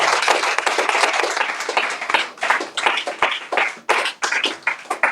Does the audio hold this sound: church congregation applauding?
yes